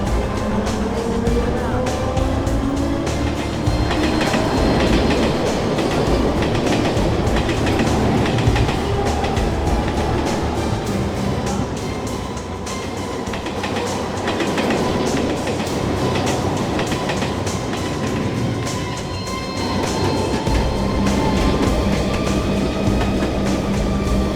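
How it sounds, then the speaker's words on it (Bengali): A non-stopping through train rumbles steadily past a station platform at close range, with continuous rolling noise and rhythmic clickety-clack from the wheels, loud throughout. "1 নম্বর প্ল্যাটফর্মে থ্রু ট্রেন আসতে চলেছে"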